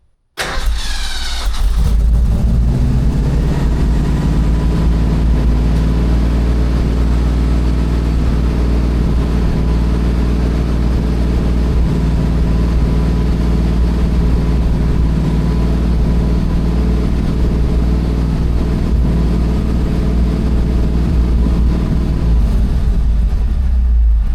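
A 1982 Ford F150 fitted with a new exhaust fires up after a brief crank and settles into a loud, steady, deep idle that holds close and unbroken for over twenty seconds, with no talking.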